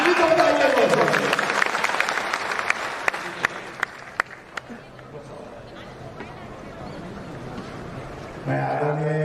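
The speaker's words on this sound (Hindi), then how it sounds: "एक बार जोरदार ताली सबके लिए होना चाहिए" Audience applause at a Jan Suraaj political gathering: a burst of clapping with a few sharp, louder claps that thins and fades before a voice starts speaking at the end.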